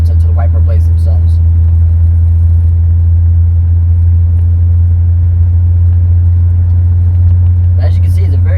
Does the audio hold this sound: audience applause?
no